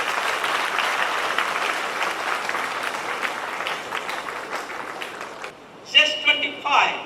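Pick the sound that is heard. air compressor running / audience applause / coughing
audience applause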